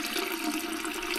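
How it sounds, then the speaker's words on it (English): A TUSHY bidet attachment sprays water in a steady, close hiss of running water, with no voices. "you turn the knob ever so slightly, then you see water coming out"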